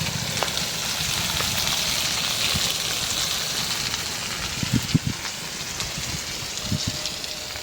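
Potatoes fry with salt in a pan, a continuous close sizzle and bubbling hiss with a few soft knocks and stirring thumps partway through.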